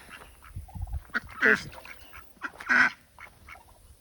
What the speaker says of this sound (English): and then the ducks.